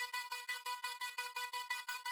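A frozen reverb vocal, duplicated and pitched up an octave, rings as a thin, airy sustained tone that swells and fades in quick, even pulses, quiet and alone.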